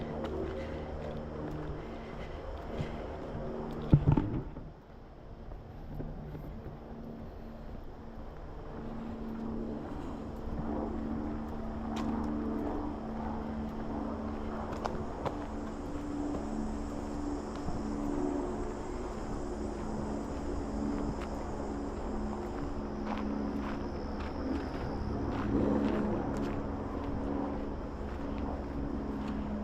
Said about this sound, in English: That's the likely scenario, Life Flight helicopter.